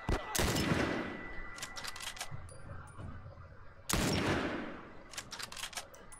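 Gunfire in The Last of Us Remastered comes as two sharp, loud bursts of rapid shots, one at the start and one about midway, with scattered single cracks and short clatters between them and a voice speaking faintly underneath.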